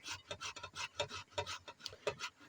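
Boiled potatoes are grated by hand, giving rhythmic, close rasping strokes in quick succession with brief pauses between them and no voices.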